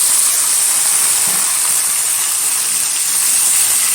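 Washed chicken hits fried onions in a hot pan, giving a loud, dense, continuous hissing sizzle that stays steady throughout, close up with no voices.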